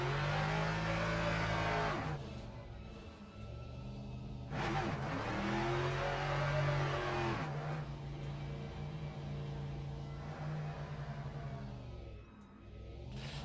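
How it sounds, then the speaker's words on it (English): A race car in Le Mans Ultimate roars through repeated burnouts, its engine droning and revving in sustained high-pitched waves with brief dips between pulls, loud and close. "Let's do some burnouts to warm up the tires"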